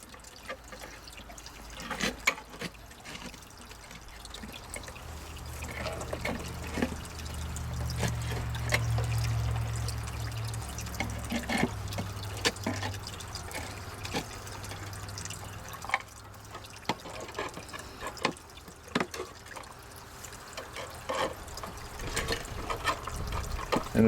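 Wet concrete poured into a cinder block foundation wall, heard as a continuous sloshing flow with scattered knocks and scrapes and a low rumble through the middle.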